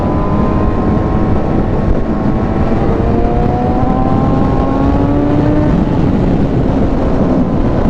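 A Yamaha R6 sport motorcycle with an aftermarket Akrapovic exhaust accelerates to overtake on the road, its engine note climbing steadily under heavy, constant wind roar.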